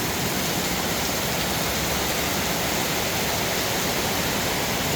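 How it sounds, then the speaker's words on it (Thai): Heavy morning rain pours down in Mueang district, Uttaradit, a dense, loud, unbroken hiss that fills the whole stretch with no voices. "ตอนนี้เจ็ดโมงก็ฝนตก"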